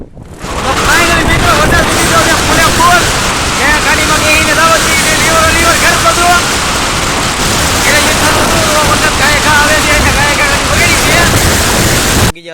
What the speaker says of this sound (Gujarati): વરસાદ ચાલુ થઈ ગયેલો છે